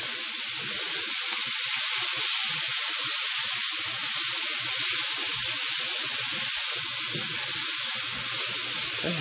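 A poblano pepper mixture sizzles loudly in a pan, a dense, steady frying hiss that holds unbroken from start to finish with no talking.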